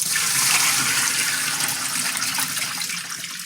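Tap water gushes steadily while pork ribs are rinsed, a loud continuous splashing stream that fades slightly toward the end, with no talking.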